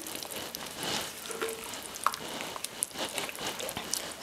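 Cheese being stirred into a bechamel sauce for truffle mac and cheese, a soft wet squishing and scraping with faint sizzle-like patter running steadily throughout, with a few sharper clicks near the end.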